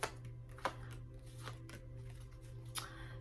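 Tarot cards are shuffled close up, a few soft riffling snaps and flicks over a low steady hum.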